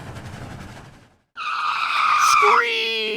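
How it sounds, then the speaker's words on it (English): A high, sustained screech with shifting pitch, fitting Thomas the Tank Engine's train brakes, bursts in loud after a short silence and follows a stretch of muffled rumble. "Screech! Go the brakes."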